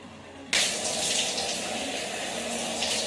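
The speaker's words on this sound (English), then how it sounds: "I just got done doing a good thorough rinse on that second shampoo" Running water rinses shampoo out of hair, gushing in abruptly after a brief quiet moment and then pouring in a steady, close, unbroken stream.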